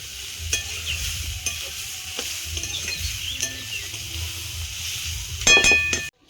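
Beetroot, potato and prawns fry in a hot pan, a steady close sizzle broken by repeated scraping stirs and a few clinks of a utensil against the pan near the end.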